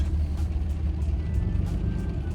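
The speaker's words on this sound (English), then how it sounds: "And our guy is driving away right now." Car driving away, a low steady engine rumble close by with faint clicks and rustles over it, no talk.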